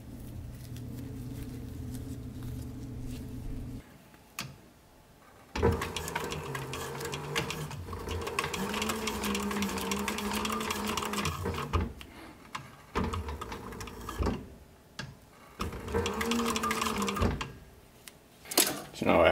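A home sewing machine stitches across folded sun visor fabric in long whirring bursts with short pauses between them, and a person talks over the stitching.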